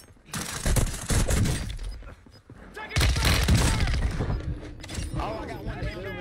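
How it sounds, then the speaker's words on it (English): Precision airstrike explosions and bursts of gunfire in the video game Warzone 2, loud repeated blasts and crackling impacts in two heavy waves, with players talking over the action. "Friendly precision airstrike inbound."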